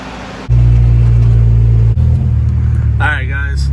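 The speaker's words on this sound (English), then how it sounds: "Finally get to take the car out." A car engine drones loud and close in a steady low rumble, then shifts pitch as the car gets underway, with someone talking over it near the end.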